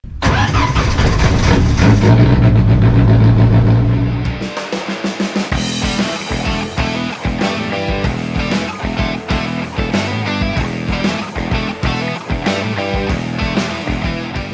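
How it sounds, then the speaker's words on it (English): Race car engines crank and fire loudly, a dense roar that settles after a few seconds into a rough, pulsing idle of several engines, with occasional blips of revving throughout. "Start your engines!"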